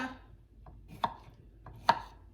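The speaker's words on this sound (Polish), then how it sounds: "Kroimy resztę." A knife chops a soft pear on a cutting board for pumpkin soup, giving a few sparse, sharp thuds spaced about a second apart in a quiet kitchen.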